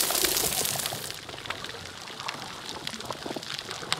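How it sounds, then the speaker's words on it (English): Underwater recording of a degraded coral reef: a sparse, quiet field of scattered soft clicks and pops over a faint watery hiss, with a brief louder rush at the start. "And this is the sound of a degraded reef."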